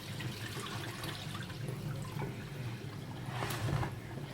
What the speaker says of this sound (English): still going to add more cold water into it.